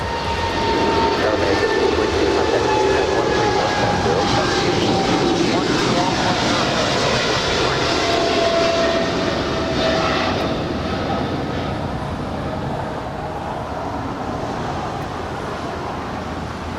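A fixed-wing airliner lands on runway 25 left at LAX with a loud, sustained engine roar that slowly fades, while tower radio chatter runs underneath.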